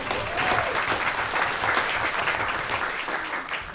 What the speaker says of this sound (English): Do you want to applaud that?